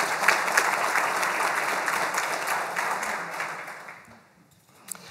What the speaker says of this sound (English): give all those folks a round of applause